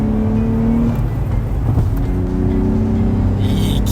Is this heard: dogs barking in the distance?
no